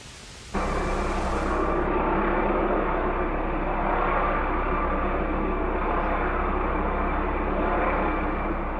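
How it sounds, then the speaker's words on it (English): Chinook helicopters arriving in the Vietnam War make a sudden, constant roar of rotors and engines that starts abruptly and holds steady and loud, heard without any talk. "Chinook helicopters bring in more units of the 173rd."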